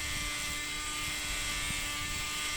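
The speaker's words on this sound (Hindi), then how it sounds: "मैं मिनी ड्रिल का यूज़ करके ना इसको रगड़ देता" A mini rotary drill whines steadily while sanding a small piece of a miniature haunted house model, a constant high-pitched buzz heard up close and alone.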